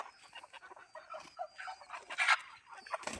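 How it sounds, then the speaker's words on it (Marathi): Country chickens packed in a box give soft, close clucks and brief chirps in short irregular bursts, fairly faint overall. "त्यांनी आपल्याला प्युअर गावरंग कोंबड्या दिलेल्या आहेत"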